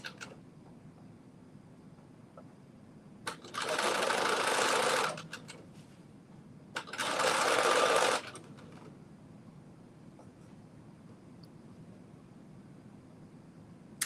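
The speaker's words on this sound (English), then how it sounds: "we're putting our stay stitch in" A sewing machine running a stay stitch, two steady whirring bursts of a couple of seconds each with a pause between, close and fairly quiet against a soft background hum.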